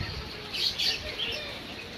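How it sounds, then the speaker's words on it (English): Birds chirp at a farm in a cluster of bright, high calls in the middle of the stretch, over a steady outdoor hum. Occasional low rumbles and soft bumps sit underneath, and no one speaks. "And there's more birds. There's a lot of birds."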